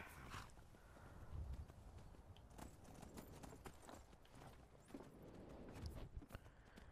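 Horse hooves clip-clop in Skyrim in a steady walking rhythm, fairly quiet and close, with a few heavier thuds among the footfalls.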